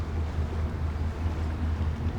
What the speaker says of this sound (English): Some boats are louder than others, and these guys are a little bit loud.